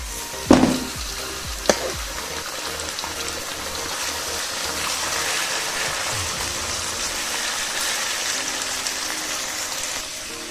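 Chicken pieces hit hot oil in a pan with a couple of sharp splashes, then a steady, close sizzle and crackle of frying continues with no voices.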